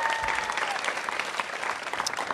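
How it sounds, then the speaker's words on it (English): An audience at a school ribbon-cutting at Walter Reed applauds for a council member with dense, steady clapping for a couple of seconds, and a faint voice shows briefly at the start. "Let's give Brandon a big round of applause."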